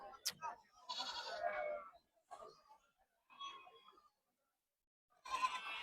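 Goats bleat at a goat market in Peth Vadgaon, several wavering, nasal calls coming close and loud in bursts with quiet gaps between them.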